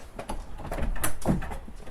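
A dog knocks and scrabbles against a door, a run of soft thuds and rattles close by that builds to a louder knock midway.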